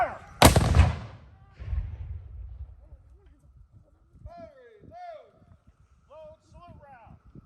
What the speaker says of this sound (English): Fire one round for all those who died in the Civil War.